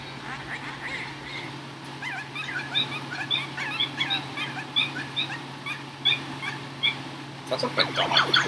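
Chimpy the Chimp from the Banjo-Kazooie video game gives a run of short, yipping, whimpering calls that sound somewhat like a dog, repeated in quick bursts over steady background game music, growing busier at the end.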